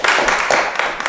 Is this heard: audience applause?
yes